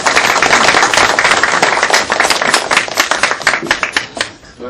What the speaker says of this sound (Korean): 우리 정세균 고문님을 큰 박수로 말씀 듣도록 하겠습니다.